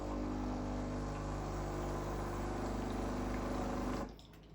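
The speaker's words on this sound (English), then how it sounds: "And then give it a flush. This will also clean the portafilter as" A Breville Bambino Plus espresso machine flushes water through its shower screen, a steady pump hum with rushing water, loud and continuous, cutting off abruptly near the end.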